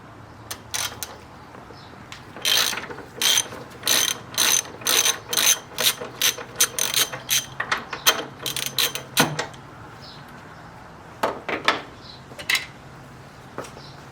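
Ratchet with an E18 socket loosening the bolts on a BMW OEM strut brace, giving bursts of rapid clicking with short pauses between them, close up and with no talking.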